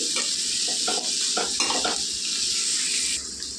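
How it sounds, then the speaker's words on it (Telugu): Cabbage sizzles steadily in a hot pan for veg fried rice, with a continuous close frying hiss and a few scraping stirs of a spatula against the metal. "కొద్దిగా వేగాలండి క్యాబేజీ, లేకపోతే పచ్చి వాసన కింద ఉంటుందండి."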